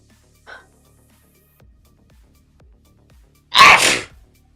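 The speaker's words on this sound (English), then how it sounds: "I feel like I'm about to sneeze" A person sneezes once, loud and close, after a short quiet stretch with a faint earlier sound and light background noises.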